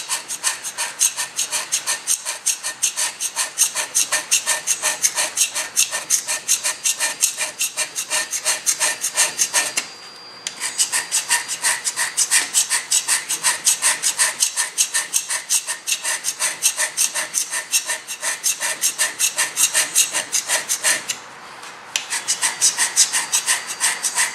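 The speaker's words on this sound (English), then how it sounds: "Now what we've done is we just scraped this." Steady hand scraper strokes rasping across a metal surface during a hand scraping job, a dense, even rhythm of quick scrapes that pauses twice briefly, close and fairly loud with no talking.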